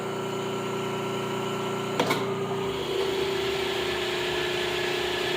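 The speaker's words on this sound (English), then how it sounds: "And that starts the spindle." A Hardinge HC chucker lathe in third gear as its spindle starts, a steady mechanical hum and whine with a brief clunk as it engages, then a lower continuous drone, close and alone.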